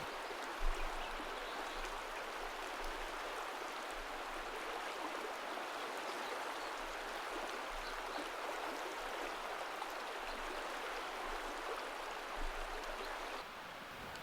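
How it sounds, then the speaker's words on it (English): Gentle water of the Metolius River flows continuously at a campground, a soft steady wash with light rippling, quiet and even throughout. "the water makes more gentle wave sounds and is somewhat quieter than other parts of the river"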